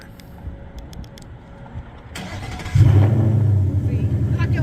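A 2024 Mustang GT S650 V8 with a new exhaust fires up and revs nearby, jumping into a loud, deep, sustained rumble after quieter moments in which people talk.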